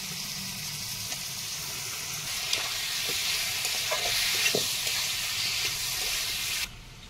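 Chicken meat frying in a pan after browned onions, with ginger, garlic and green chilli, sizzling with a steady hiss while a utensil scrapes and stirs in scattered knocks, close and even until the sound cuts off abruptly.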